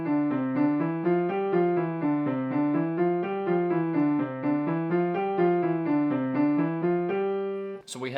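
Piano playing a two-handed coordination exercise, both hands running down a scale from G and back up in steady, even notes, clear and close, ending on a held note.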